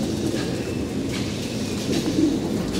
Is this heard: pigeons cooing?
yes